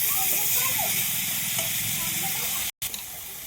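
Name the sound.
chivai leaves sautéing in hot oil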